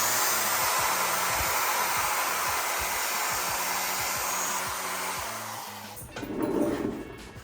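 A corded power tool polishes small-block Ford engine parts for a 1962 Falcon build, giving a steady, close whirring whine that cuts off near the end with a brief clatter.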